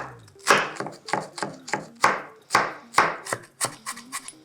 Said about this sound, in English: Now, I'm going to finely chop the onion first.